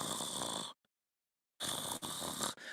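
A voice imitates loud snoring, mocking a judge who fell asleep on the bench during court: two bursts of rasping, breathy snores broken by a short silence.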